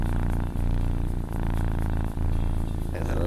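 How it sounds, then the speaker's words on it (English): A loud, continuous purr with a rhythmic rumbling pulse, dipping briefly about every second, close to the microphone with no talk. "That's a loud purr."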